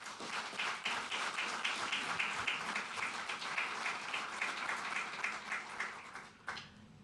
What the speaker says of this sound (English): a big round of applause for all of you